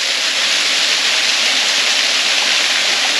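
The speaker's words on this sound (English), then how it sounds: "have a go at the waterfall" A waterfall pours into a rock pool, a loud, steady, close roar of rushing water with no breaks.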